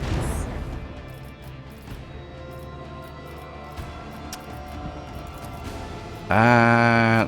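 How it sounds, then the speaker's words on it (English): Starship macro cannons fire in the Warhammer 40K: Rogue Trader video game, giving scattered heavy crashes and booms over a dense rumbling battle mix, then a sudden loud tonal burst near the end. "Engage the macro cannons."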